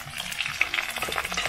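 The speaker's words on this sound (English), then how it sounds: "Watch them frying, you know." Crackling, popping sizzle of chicken back frying in hot oil, close and continuous, with small bright spits scattered throughout.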